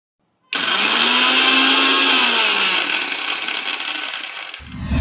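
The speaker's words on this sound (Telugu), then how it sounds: "ఈ మూడు గ్రైండ్ చేశాక" A kitchen mixer grinder grinds dried red chilies and spices, switching on abruptly into a loud, steady whirring roar with rattling contents that holds for about four seconds before winding down with a clunk.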